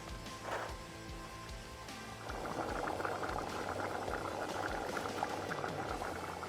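Baking soda poured into a liquid sets off a fizzing chemical reaction giving off carbon dioxide: a brief pour, then a steady, dense bubbling hiss that builds and continues close by.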